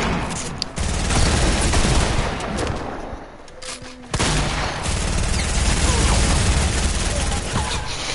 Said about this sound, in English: I just got shot from somebody else.